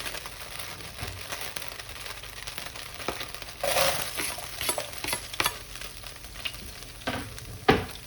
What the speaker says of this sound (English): Put the onion and the garlic in here. Okay, the oil's getting hot.